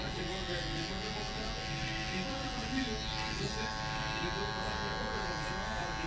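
Barber's electric hair clippers fitted with a close blade buzz steadily and close up while cutting hair, a continuous hum with no breaks.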